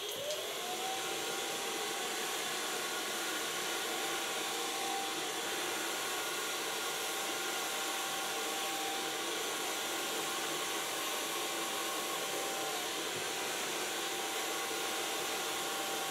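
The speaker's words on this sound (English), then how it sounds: "I'm gonna blow dry the hairs." Hair dryer running continuously at close range while hair is blow-dried with a medium round brush, a loud steady airy roar throughout with a faint tonal whine, no talking.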